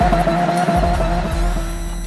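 Aston Martin supercar, its fastest model, driving with loud continuous engine roar and tires squealing throughout, a steady close sound with no speech.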